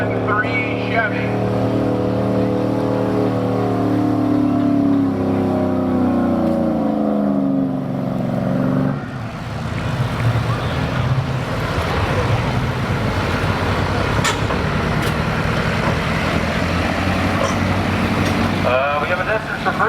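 A 2003 Chevy diesel pickup truck pulls a sled at a truck pulling event, its engine roaring loud and sustained at high revs, then giving way to broad, noisy rumble and crowd-like wash.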